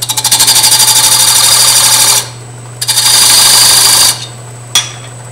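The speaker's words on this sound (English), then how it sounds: "And do some sanding on it, and we'll be done with the base and the whole project" Sanding a box elder and maple wooden wig stand base spinning on a lathe, a loud buzzing rasp in two long bursts with a gap between and a brief final touch, no talking.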